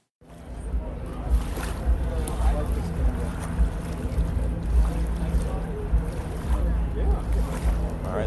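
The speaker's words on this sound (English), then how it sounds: "I recorded the boat going out on the course, spooling up its engine as it got on plane." Oberto hydroplane race boat heading out on the course and spooling up its engine as it gets on plane, a steady, rising roar heard from a distance with wind and water noise mixed in.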